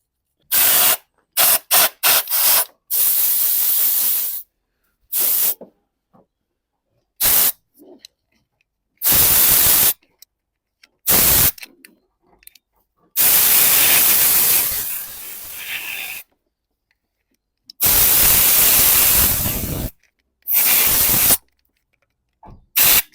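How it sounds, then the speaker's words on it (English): Compressed air blasts petrol out of the spark plug wells of a Ford Focus 1.0L EcoBoost, loud close hissing bursts of varying length, some long and sustained, others quick and choppy, separated by silence. "I'm gonna have to blow all the petrol out of there because all the spark plugs swimming."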